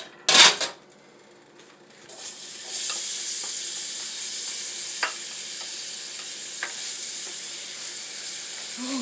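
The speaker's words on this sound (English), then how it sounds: "Oh, you can hear that sizzle." Mushrooms hit a hot pan with a sharp clatter, then settle into a steady, close sizzle of frying with a couple of faint utensil taps.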